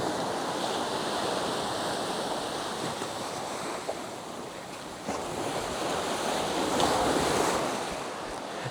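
Atlantic surf washes steadily against a rocky shore on Santa Maria in the Azores, near Malbusca. The roar is continuous and full, with gusts of wind buffeting the microphone and a swell that builds toward the end.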